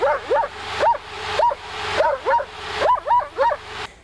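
A dog barks in quick bursts of short, high yips, about ten in a row, close and loud with brief gaps between them.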